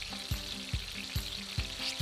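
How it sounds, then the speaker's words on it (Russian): Chicken meat sizzles steadily in a heated frying pan, the loud crackle broken by regular thumps roughly twice a second, with no talking. "На разогретую сковороду выкладываем мясо, при этом не перемешиваем"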